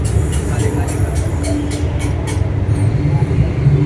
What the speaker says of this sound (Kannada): ಸೊ ನೋಡಿ ಗಾಯ್ಸ್ ಯಾವ ಥರ ಇದೆ ಮೆಟ್ರೋ, ಡೆಲ್ಲಿ ಮೆಟ್ರೋ